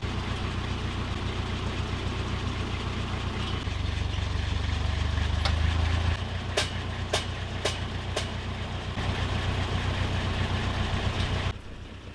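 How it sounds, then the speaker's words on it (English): A tractor engine runs steadily during land clearing on a raw homestead plot, a constant low rumble with a few sharp clicks partway through, then it drops off near the end. "And once again, the tractor comes in handy."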